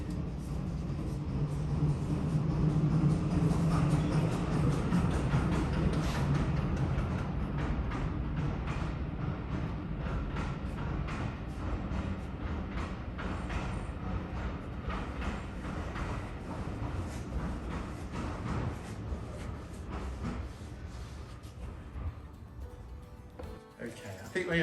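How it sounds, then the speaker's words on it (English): A train goes by outside a workshop where French polishing is being done, a broad rushing rumble that swells early, then slowly fades and thins toward the end; someone talks faintly over it. "Train's going to go by."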